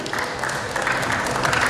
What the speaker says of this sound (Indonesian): Kita tepuk tangan untuk Sky Property.